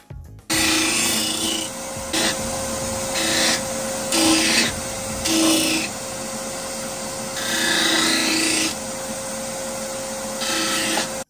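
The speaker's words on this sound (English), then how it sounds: "This spindle sander works great for smoothing it out and squaring it up if you have an uneven cut like I did with the jigsaw" A spindle sander hums steadily while smoothing and squaring the uneven, jigsaw-cut edge of a wooden ghost cutout. Loud, raspy bursts of abrasive rubbing rise and fall repeatedly over the motor drone, with no voices.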